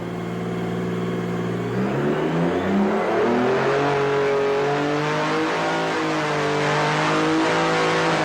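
Turbocharged race car engine running steadily on a dynamometer under simulated road load, tied to IMSA Camel GT endurance racing at Riverside, its loud continuous drone climbing in pitch through the middle of the run and holding high with no talk over it.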